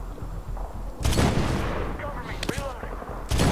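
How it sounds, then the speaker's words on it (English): Gunfire in the Medal of Honor 2010 video game comes in loud, dense bursts of rapid shots with short quieter gaps between them, and voices are heard in the background. "Just shooting guys with absolutely no threat of retaliation."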